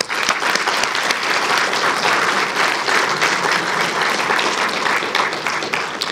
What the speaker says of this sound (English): let's give our nominees a round of applause